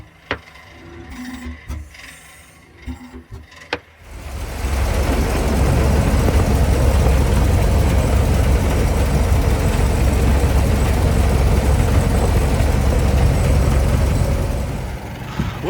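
A 1927 Ford TT truck engine turns over after a few clunks and then runs steadily, a loud, close, rumbling low drone that holds evenly for about ten seconds.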